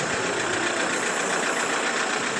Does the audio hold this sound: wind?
no